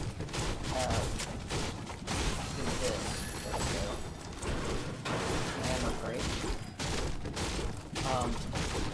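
Gunfire in a Fortnite trios match, a dense continuous clatter of shots and impacts filling the stretch at moderate level, with players' voices talking over it.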